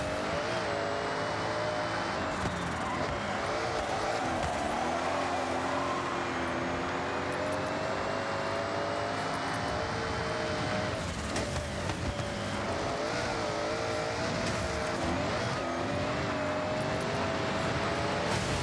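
Car engine roaring at a steady high pitch in Forza Horizon 6, the car racing at over 160 mph and splashing through water, loud and continuous with rising and falling revs and no talk.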